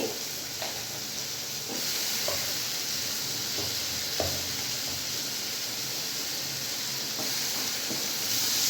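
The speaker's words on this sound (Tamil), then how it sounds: "தக்காளி சேர்த்து நல்லா வதக்கிட்டுக்கோங்க" Chopped ripe tomatoes sautéing in a hot pan for a kuzhambu, giving a continuous broad hiss and sizzle with a few faint stirring taps, close and steady throughout.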